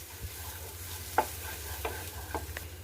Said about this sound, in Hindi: इसे अब हम मसालों के साथ अच्छे से कर देंगे मिक्स।